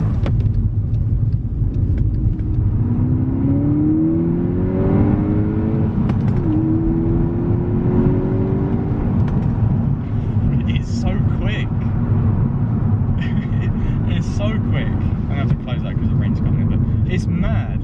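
Volkswagen Golf GTI MK6 Edition 35 accelerating hard on wet roads with traction control on, a loud steady engine rumble rising through the gears, with harmonic sweeps climbing and dropping at each shift, plus tyre and road noise throughout.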